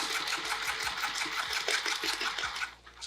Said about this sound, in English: I'm sewing right beside the zipper tab